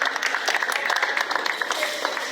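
An audience at an employees' award function and pool party claps loudly for the HOD of the mechanical branch. The clapping is brisk and crowded, with individual sharp claps audible throughout.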